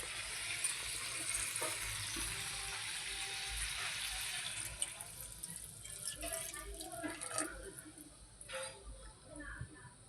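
Water is poured into a pot of chicken and potato curry, a soft continuous splashing stream over faint sizzling that tapers into scattered drips near the end.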